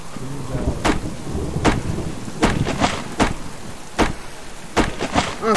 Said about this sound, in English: Also, again, with the storm,